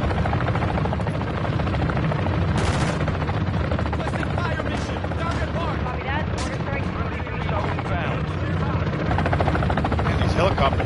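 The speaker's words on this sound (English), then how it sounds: "these helicopters are loud" Helicopter rotors in the video game Modern Warfare III, a loud continuous throbbing beat filling the whole stretch, with occasional gunfire bursts and someone talking underneath.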